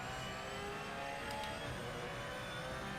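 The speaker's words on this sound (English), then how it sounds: "It's been noisy running out in the Porsche Cup car" Porsche Cup race car in the racing game Project Motor Racing, its engine a steady sustained drone with a high whine, running continuously without speech.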